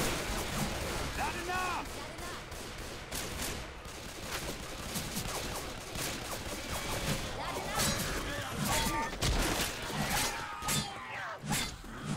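Gunfire in Left 4 Dead 2, including pistol shots, cracks repeatedly through a dense, noisy battle mix of blasts and crashes, with talk among players during the clip.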